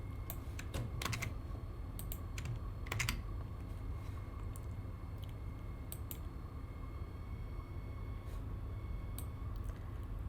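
An email address is typed on a computer keyboard in short bursts of quick, crisp key clicks, close and fairly quiet, with pauses between clusters over a low steady hum.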